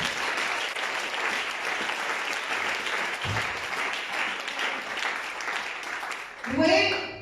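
A church congregation claps and cheers in a sustained, dense wash of applause, with a voice rising briefly near the end.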